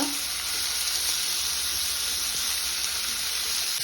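Tomatoes, coriander and mint leaves frying in a pan for a chicken gravy, a steady soft sizzle with a faint hiss, heard close and without talk.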